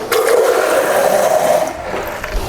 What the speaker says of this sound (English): I'm just going to pop a bit of water in there.